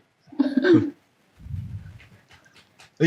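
A dog panting and whimpering: a short, strained, whiny vocal burst, then rough, breathy panting that fades, followed by faint sniffs and small noises, close by.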